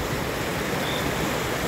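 A swollen, flooded mountain stream rushes past a wooden dam with a concreted middle section, giving a steady, dense broadband roar of water, close and unbroken throughout with no voices.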